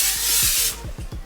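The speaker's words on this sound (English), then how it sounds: "I'm gonna spray Evan." Hair spray bursts from an aerosol can onto a crimped wig, a close, loud hiss lasting about a second, followed by a brief rustle.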